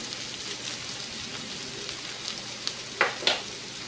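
Potatoes fry in a pan for a bacon potato frittata, giving a steady, soft sizzle with a few sharper pops and crackles near the end, heard alone.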